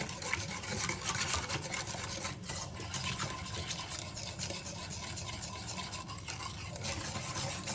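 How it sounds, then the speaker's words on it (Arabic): Cornstarch and dry ingredients being stirred into milk for a cold dessert: a steady, close scraping and swishing with soft, rhythmic rubbing and no voices. "غادي نخلط هاد النواشف، غادي نحاول ما امكن ندخلهم في داك الحليب كامل"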